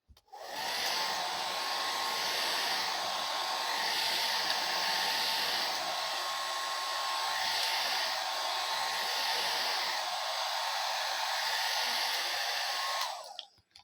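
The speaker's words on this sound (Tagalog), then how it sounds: "nagda-dryer ako ng buhok ko" A hair dryer runs continuously and fairly close while drying hair, a steady whirring blow that starts abruptly and cuts off at the end.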